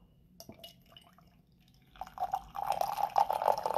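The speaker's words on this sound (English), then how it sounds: "I'm gonna go ahead and pour some of this out real quick for you" Summer Passion Breeze tea pours into a cup, beginning with a few soft isolated drips and then swelling into a steady, trickling stream of liquid close by.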